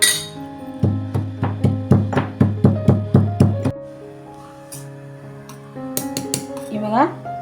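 A spice mixture pounded by hand, a steady run of about a dozen loud, ringing metallic thuds in even rhythm, then lighter clinks and scrapes; close, with no talk.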